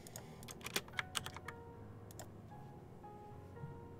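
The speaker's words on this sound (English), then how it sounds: "I know the keyboard doesn't sound too great in your ears" Computer keyboard clacks in a quick irregular burst of keystrokes, then sparser taps, close and fairly quiet with no talking.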